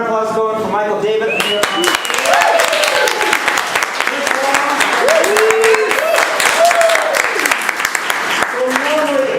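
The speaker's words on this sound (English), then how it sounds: "Keep that round of applause going for Michael David." A comedy improv crowd keeps applauding a performer, steady clapping filling the room while a host talks loudly over it throughout.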